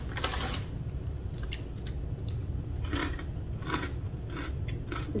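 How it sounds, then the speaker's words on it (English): Someone bites and chews a cheesy Trader Joe's corn snack, giving several close, faint dry crunches spaced irregularly over a quiet background hiss, with no talking. "It's very crunchy."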